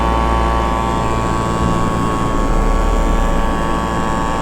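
Paramotor engine on a SkyMax Star frame running at steady throttle in flight: a loud, continuous propeller drone with a strong low buzz and steady harmonic whine, close and unbroken, with no talking.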